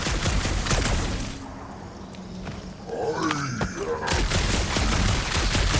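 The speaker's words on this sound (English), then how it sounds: "Shooting your way out of every problem again, Peter?" Dense gunfire in the Guardians of the Galaxy game: loud, rapid shots at first, a brief lull with a character's strained vocal sounds, then the heavy firing resumes at full strength.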